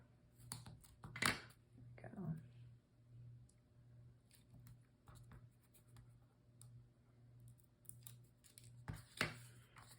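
Scissors trimming fabric scraps for a honeycomb-themed sewing project, heard as a few close, crisp snips and rustles scattered among quiet handling noise, with a faint steady hum underneath.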